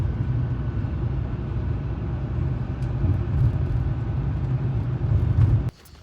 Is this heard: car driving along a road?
yes